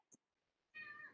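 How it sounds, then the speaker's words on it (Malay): A kitten meows once, short and fairly faint in a quiet room, followed by a louder burst of background music with sustained tones. "Ini anak kucing ke? Kucing dia melalak."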